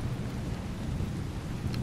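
Steady rain pours in The Division 2, a dense, even wash of rain noise with low rumbling, continuous and fairly loud throughout.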